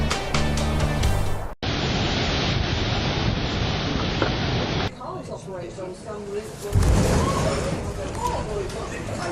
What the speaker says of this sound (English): Huge waves hit Stina, ferry from Holyhead to Dublin.